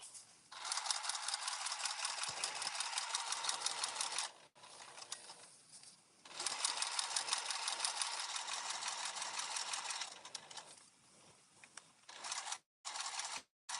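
A sewing machine stitches fabric, reversing for a back stitch while sewing a travel organizer: a steady rapid mechanical run, a brief pause, then a second long run and a few short bursts, close and clear.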